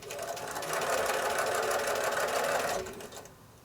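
A sewing machine runs a steady, continuous stitch through pieced pinwheel quilt block fabric at a narrow 1.5 mm stitch length, close and loud for about three seconds before easing off near the end.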